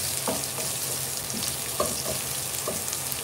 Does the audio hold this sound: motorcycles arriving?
no